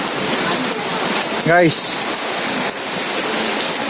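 Steady rain pours down with a constant hiss, while a voice briefly speaks partway through.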